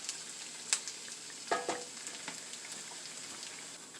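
Poor man hash with eggs cooking in a pan, a quiet, soft sizzle with a couple of sharp clinks and scrapes from a utensil.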